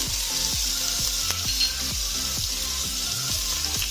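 Nigella seeds, chopped garlic and ginger sizzle loudly and steadily in hot oil for a Bengali aloo paratha filling, a dense continuous hiss with no talking.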